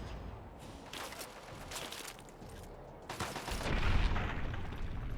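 Gauss rifle fire in the video game Fallout 3, several sharp bursts over a rumbling, noisy background, with a heavier boom near the end, fairly loud and without speech.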